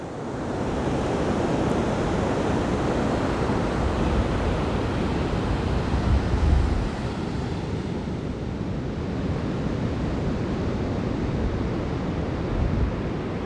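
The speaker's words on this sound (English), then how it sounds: "Yep, that is quite a big beach." Steady roar of surf breaking on Ninety Mile Beach at the top of New Zealand, a continuous broadband wash with wind noise buffeting the microphone and no voices.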